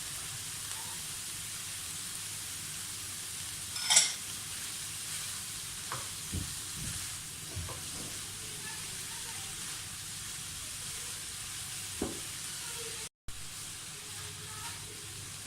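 Chicken and vegetable spring roll filling with cabbage and spring onions sizzles faintly in a pan, broken by a few soft scraping stirs and clinks over a low background hiss.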